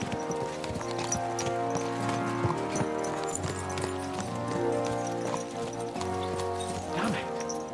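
Horses gallop in a video game, hooves clip-clopping in a fast steady rhythm over a musical score, loud and continuous throughout.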